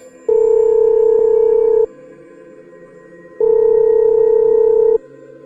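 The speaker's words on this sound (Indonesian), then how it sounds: "Suara handphonenya berdering bahwa ada panggilan masuk dari Tomo." A mobile phone rings with two long electronic tones, each about a second and a half, separated by a pause; a clear, loud, steady ringing pattern.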